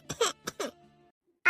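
A person coughs and clears their throat in a few quick, close, rough bursts, then falls briefly silent before another sound begins.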